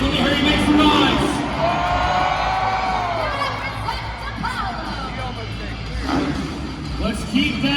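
A stadium crowd at a Monster Jam 2022 halftime freestyle motocross show in Pittsburgh cheers and whoops in a broad, roaring swell. Engine noise and loud announcer talk sit over the crowd, and a sharper burst of cheering comes at the end.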